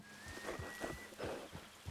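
Hooves of a horse in Red Dead Redemption 2 clip-clop in a steady walking rhythm, faint and close, with a rainy ambience beneath.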